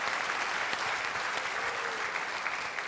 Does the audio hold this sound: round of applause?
yes